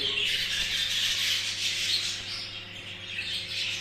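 A pet bird squawks and chirps in shrill, repeated bursts while being handled, close and fairly loud over a low steady hum.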